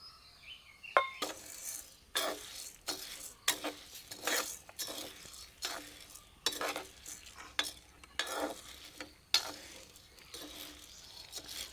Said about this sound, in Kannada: ಅದರ ಜೊತೆಗೆ ಉದ್ದಿನಬೇಳೆ ಒಟ್ಟಿಗೆ ಹಾಕ್ಕೊಂಡು ಹುರಿಬೋದು, ಉದ್ದಿನಬೇಳೆ ಮತ್ತು ಕಡಲೆಬೇಳೆ.